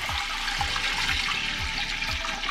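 Water poured into an empty pot at the start of a piña colada wine batch, a steady, full splashing stream running throughout with regular low gurgling pulses as the pot fills.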